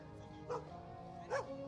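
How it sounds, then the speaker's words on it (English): An excited dog at a homecoming parade gives two short, high yipping barks, faint and somewhat distant over crowd and band background noise. "Oh, the dog's excited."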